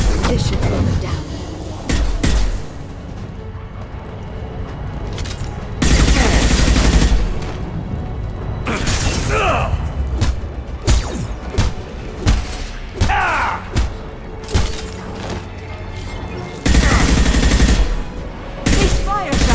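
Bursts of automatic gunfire in the Mass Effect 2 Shadow Broker mission, loud rapid volleys with thuds and impacts, rising and falling in waves under occasional voices.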